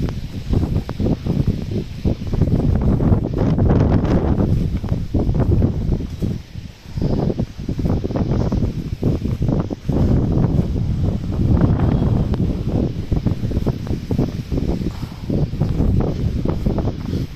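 Strong monsoon wind gusts across a sesame field in a steady, loud, roaring rush that barely eases at any point, with no voices.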